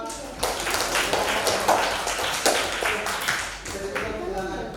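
Scattered clapping from a small group of students after a class group presentation, under a busy mix of voices, fairly close and uneven rather than a full ovation.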